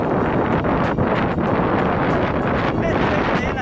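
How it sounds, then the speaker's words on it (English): Strong wind buffeting a microphone outdoors in Reno near a Gigafactory, a continuous loud rumbling roar with gusty bursts throughout. "A bit windy and I don't know if you can hear me"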